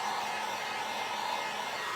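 A hair dryer runs steadily and close by, drying paint on a Dollar Tree cutting board, giving an unbroken whirring hiss with a faint tone inside it and no talk.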